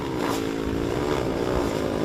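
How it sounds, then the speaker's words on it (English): Mini bike engines rev on a wet race track, a 150 four-stroke's throaty roar mixed with the crisp, raspy power note of two-strokes, a loud continuous drone with overlapping pitches and no talk. "hear the throaty roar of the 150 4-stroke and the crisp revving now of the 2-strokes, that really raspy power note there"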